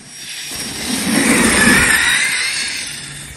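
A Losi DBXL-E 2.0 electric RC car with an Outcast 8S 800kv motor driving past near a lakeside playground, a rising and falling high electric whine with tire rush, close and loud, no talking.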